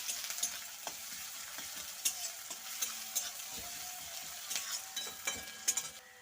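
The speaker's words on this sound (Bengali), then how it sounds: "তো এবারে একটু ভালো করে এটা কষে নিচ্ছি।" Spice paste being sautéed and stirred in a pan, with a steady sizzle and repeated scraping strokes for Bengali aloo chop filling, close and moderate in volume, with no talking.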